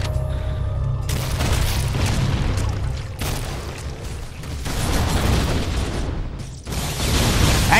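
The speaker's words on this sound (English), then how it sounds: "what is that big explosion?" Heavy, continuous booming blasts roll and rumble in Halo, with several sharp surges as new explosions hit, loud and close throughout.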